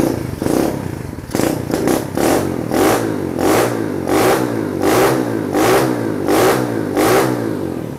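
A manual-clutch HSX 110 mini trail motorcycle with header and silencer exhaust revs repeatedly in steady rhythmic bursts, loud and close, with a rattling exhaust note between each rise.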